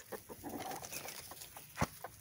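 Backyard chickens cluck softly at close range, with a few scattered clucks and one sharper squawk near the end, fairly faint throughout.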